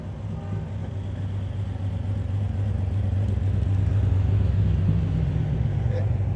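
A purple custom car with purple metal flake paint and a big motor approaches at a car show, its engine rumbling low and steady and swelling slightly louder as it nears.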